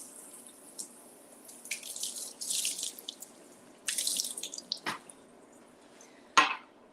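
Asparagus spears are rinsed under a running kitchen tap in a sink, water hissing in irregular bursts with splashes and a couple of sharp clunks, fairly quiet and close.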